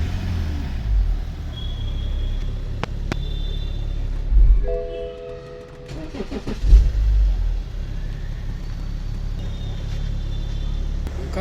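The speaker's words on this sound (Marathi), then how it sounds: "आपण फायनली गाडी पण चालू केलेली आहे" A BMW 7 Series car, repaired for a diesel fuel supply fault that kept it from starting, runs with a steady low engine rumble throughout, with a brief crank-like surge near the middle and some clicking and whining tones.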